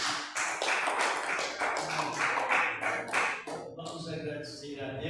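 A congregation at an evangelical church worship service claps for the pastor, sharp rhythmic hand claps in a steady, fairly close burst that thins out toward the end.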